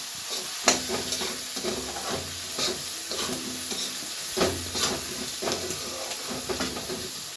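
Peas with turmeric fry in a pan, sizzling steadily up close with scattered crackles and pops, while a spoon scrapes through them in repeated stirring strokes.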